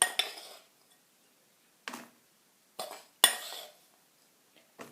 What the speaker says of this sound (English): What I've got here is my Oreo crumbs coated in butter, and I'm just going to put that into the cake tin.